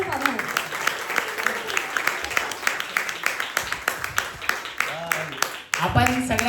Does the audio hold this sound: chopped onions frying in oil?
no